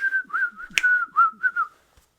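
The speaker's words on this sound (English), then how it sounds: "were you just whistling Jingle Bells?" A person whistling Jingle Bells, a short clear melodic phrase of several notes in a bright, close whistle, heard alone.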